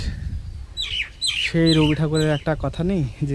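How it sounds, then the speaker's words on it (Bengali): A common myna perched near a palm tree under the open sky gives bright, warbling chirps and squawks in short bursts, close and loud, while a person speaks over the start. "তার কাছে একটা শালিক কি সুন্দর কিচিরমিচির করে ডাকছে"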